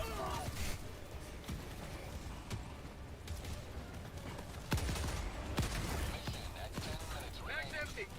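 Video game gunfire crackles in dense bursts through a continuous noisy mix, with sharp louder shots standing out near the middle and a voice talking over the action.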